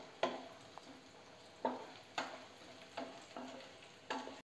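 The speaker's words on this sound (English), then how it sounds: "I'm going to fry our cashew nuts." Cashew nuts and coconut pieces fry in ghee with a quiet background sizzle, broken by about six sharp utensil clicks and scrapes as the pan is stirred at uneven intervals.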